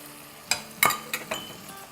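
Chicken browning in a pan with coriander, red chilli powder and a chicken stock cube gets stirred, producing four distinct spoon scrapes and clinks over a faint background sizzle, close and without talk.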